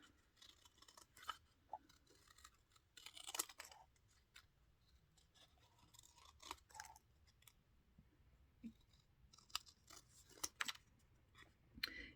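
Scissors fussy-cutting around a paper image for a collage-style journal page, quiet close snips in irregular bursts with short pauses between.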